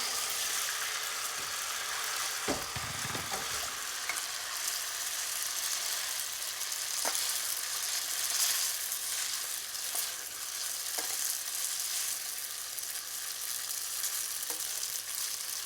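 Linguine pasta sizzling in a pan of brown butter, a dense continuous crackle and hiss with a brief thump of stirring near the start and scattered soft clinks, no voices.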